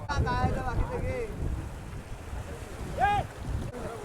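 A fishing boat out at sea off the Konkan coast, with wind buffeting the microphone over a constant water and engine rumble, and brief voices calling out.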